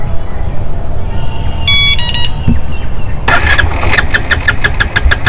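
A Benelli TNT 150 motorcycle with its fuel burned off is cranked and does not catch. A few short electronic beeps come first, then the starter motor churns in a rapid, evenly pulsing whir at close range.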